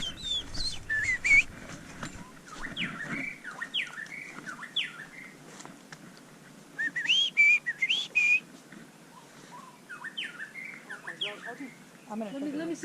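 A bird sings a series of bright, varied whistled phrases in bursts with pauses, fairly close, with faint background noise and occasional voices, on a Hawaiian forest trail (Pu'u Ohia).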